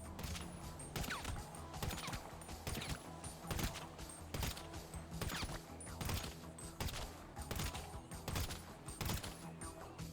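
Gunfire striking an armored player in GTA Online: rapid, dense bursts of sharp shots and metallic impacts pile up in quick, irregular succession, loud and busy, with no talking.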